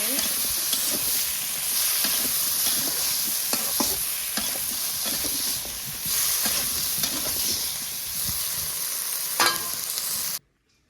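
Green vegetable curry stirred in a hot pan, with a steady loud sizzle and frequent scraping strokes of the spoon throughout, ending abruptly.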